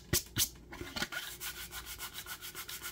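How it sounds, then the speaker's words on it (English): A 3D printed plastic tray rubbed back and forth against a hand, giving a steady run of soft, rhythmic scratchy strokes after a couple of sharper scuffs, close and fairly quiet with no talk. "I'm rubbing it on my hand, trying to heat it up to see if it'll change color"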